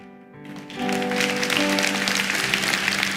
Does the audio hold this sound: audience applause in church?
yes